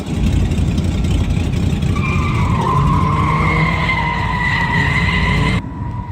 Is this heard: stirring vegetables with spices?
no